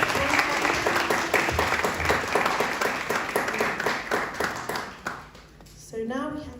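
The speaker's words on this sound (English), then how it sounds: "Can we please give him a round of applause once again?" An audience applauds with steady, dense clapping at a panel discussion event in Leicester. The clapping fades out after about five seconds, and a speaker then begins talking.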